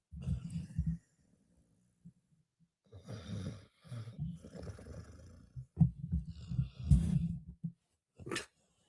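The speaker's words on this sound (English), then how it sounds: "The one that's snoring right next to the microphone" A dog snores right beside the microphone, giving low rumbling breaths in several bursts with short pauses, loud and close, alone without talk.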